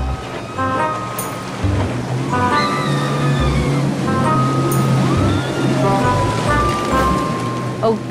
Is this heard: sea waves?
yes